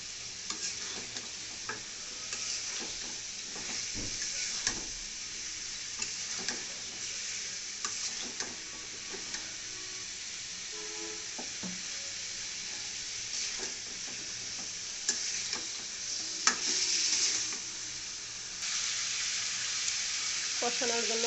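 Pieces of meat fry in a cooked-down spice masala while being stirred, a soft steady sizzle broken by repeated scraping and clinking of the spoon against the pan, faint and continuous over about twenty seconds.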